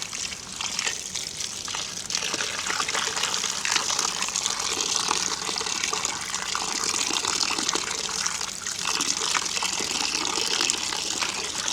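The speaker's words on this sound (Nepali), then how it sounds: "यसलाई मजाले मिची मिची पखाल्छौँ" Lemons rubbed and washed one by one in a basin of water, a steady close splashing and sloshing that runs the whole time without any talk.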